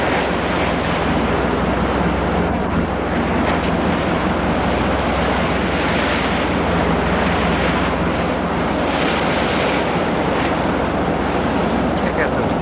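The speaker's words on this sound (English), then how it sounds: "Check out those waves, man." Rough sea waves crash and roar near the Bishop Rock lighthouse off Britain, a loud unbroken wash of surf mixed with heavy wind buffeting the microphone from start to finish.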